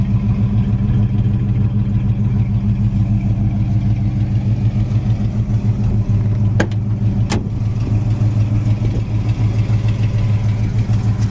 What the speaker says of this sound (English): the motor sounds great. Dual exhaust sounds nice.